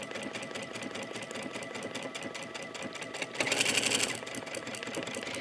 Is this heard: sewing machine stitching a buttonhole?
yes